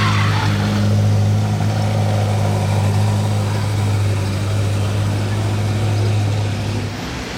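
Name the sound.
SFX6 Spider sports car driving off in Monaco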